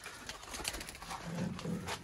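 Chapray breeder pigeon chicks coo softly and close by in a low, rounded murmur that swells toward the end, over faint background noise.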